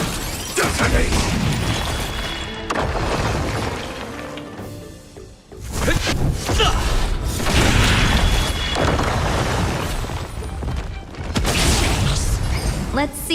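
A detonation skill in the Honkai: Star Rail video game sets off heavy, booming explosions in several loud waves, with short gaps between them and game voice lines mixed in.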